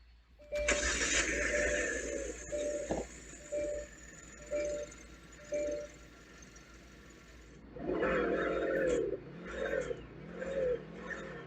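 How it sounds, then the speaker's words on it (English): A 2017 Hyundai Sonata engine cold-starts with a sharp crank and catch, then idles while a repeated short beep sounds. Near the end it revs up hard and bounces against the rev limiter in wavering surges. "Let's do a cold start."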